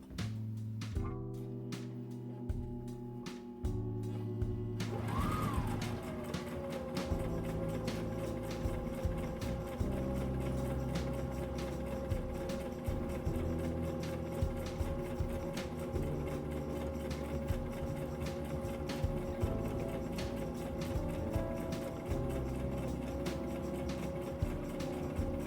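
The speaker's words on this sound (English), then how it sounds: "let's start sewing. And I'm using the zigzag stitch because it works good for stuff that you're going to flip inside out." Sewing machine running a zigzag stitch while making a pillow, a steady mechanical hum with rhythmic needle ticking, close and sustained after a brief quieter start with a few handling noises.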